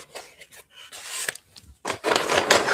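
Wooden tokens shaken together in a container, a loose clattering rattle in uneven bursts that grows louder and denser toward the end, with no talking.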